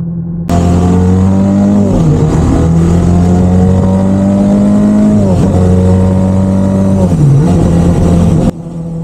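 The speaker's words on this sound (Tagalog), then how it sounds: "Yung mapapakinig nyo nga pala sa tambutso ko, yan nga pala stock pipe lang." A big bike's engine on Ayala Highway in Lipa runs through its stock exhaust pipe, a loud, steady low drone that dips and climbs with a few gear changes before cutting off.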